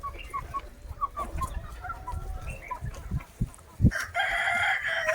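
A large dominant rooster in a village free-range parent flock crows loudly and close near the end, after a stretch of softer clucking from the hens and other fowl around it.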